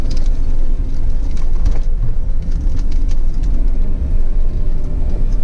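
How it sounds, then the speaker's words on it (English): Supercars on a winding Scottish coastal road with hairpin bends, a loud, close, steady engine rumble and road roar filling the whole stretch without a break. "Oh, there's more supercars coming."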